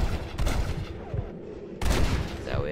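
A video-game shootout in Red Dead Redemption, with several loud, close gunshots cracking in quick bursts and a final flurry of shots with ricochet-like whines.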